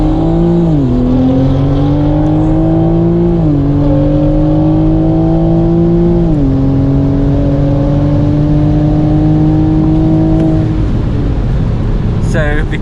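A Stage 1 Evolve tuned Toyota A90 Supra accelerates hard on a quarter-mile drag strip, its loud engine note climbing through three gear changes in steady pulls before lifting off near the end.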